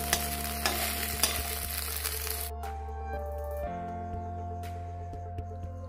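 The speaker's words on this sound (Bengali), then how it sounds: "ডিমগুলো ভেজে তুলে নিয়েছি।" Eggs frying in oil in a wok-style pan while being stirred, a steady sizzle with light scraping taps, close and moderately quiet, fading partway through over a constant background hum.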